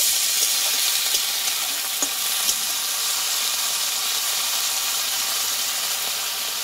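A small splash of water hits pumpkin stems frying in a pan, raising a dense, steady hiss and sizzle that holds close and loud throughout, with a few faint clicks and no talk.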